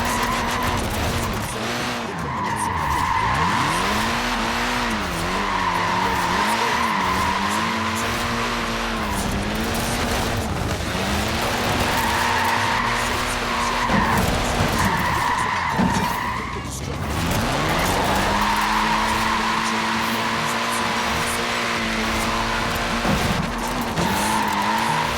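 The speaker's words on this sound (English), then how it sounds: "Look at that, laying down some rubber there." A tiny small-wheeled car in Forza Horizon 4 skids hard, its tyres squealing in long, wavering bursts over a loud, revving engine that rises and falls for the whole stretch.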